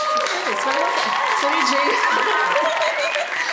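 A crowd gives loud, sustained clapping to celebrate a best thesis award. The applause stays steady and dense throughout, and a voice speaks over it.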